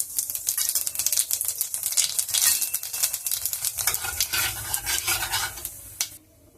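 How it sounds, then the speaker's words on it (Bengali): Black cumin seeds crackling and sizzling as they hit hot oil, a close, busy spattering with rapid pops and some stirring, fading near the end. "তেলটা গরম হয়ে গেছে। এবার আমি কালো জিরেটা ফোড়ন দিয়ে দিলাম।"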